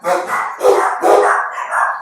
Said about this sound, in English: my dogs are barking, literally